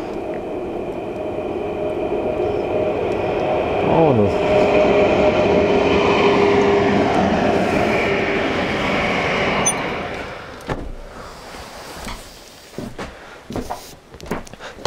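A train rolls past outdoors near snowy ground in thawing October weather, a steady broad rumble building for about ten seconds before cutting off, leaving faint scattered sounds; a voice speaks briefly.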